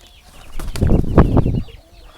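An Aseel rooster, a purebred fighting-breed bird about six to seven years old, gives a loud run of close, throaty clucks with a rough flutter of movement over about a second and a half.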